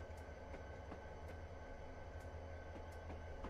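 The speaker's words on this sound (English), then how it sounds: "you hear the fucking freight car sounds?" Freight train cars rolling along the track in the railway game Train Simulator 2019, a steady low rumble with faint rhythmic wheel clicks and thumps throughout, moderately loud and without talk.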